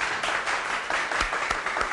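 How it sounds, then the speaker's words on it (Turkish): A studio audience applauds on a Turkish entertainment show, a short dense burst of clapping at fairly close range that holds steady throughout. "Tutacaktın tabii bir alkış alalım."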